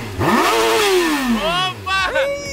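Motorcycle engine revving hard, rising and falling in pitch across several sharp throttle blips, loud and close, with voices talking over it.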